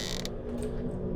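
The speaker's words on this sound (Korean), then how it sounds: "문 열리는 소리." A door creaks open in a horror video game, a short mechanical creak with ratcheting, gear-like clicks at steady loudness over a low rumbling game ambience, with no voices.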